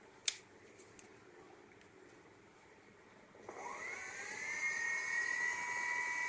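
An electric e-rickshaw motor at full throttle, speed-limited to about 29 km/h, spins up after a quiet start into a rising, then steady, high whine that holds close and fairly loud to the end.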